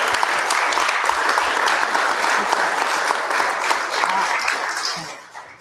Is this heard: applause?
yes